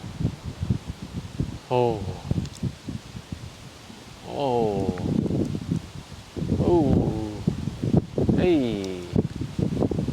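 Strong wind gusting outdoors during an October hunt, a steady broadband rush with gustier surges throughout, while people talk intermittently over it.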